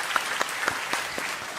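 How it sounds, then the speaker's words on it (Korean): A church congregation at an early-morning special prayer service clapping, with scattered individual claps close together over about a second and a half, no voices. "우리 주일학교 너무 수고하셨는데 박수로 한번 격려해 주시면 감사하겠습니다."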